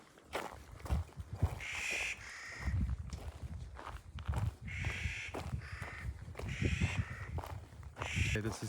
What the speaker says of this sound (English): those birds that you hear are called Clark's Nutcracker